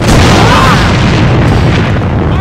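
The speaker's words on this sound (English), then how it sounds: "It's an enemy grenade! Grenade straight ahead!" A grenade blows up in the online shooter AVA, a loud, close, sustained booming blast that fills the short moment.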